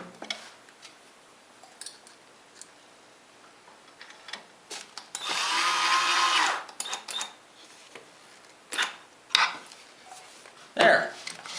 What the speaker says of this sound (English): I can go ahead and install the screws in their new locations.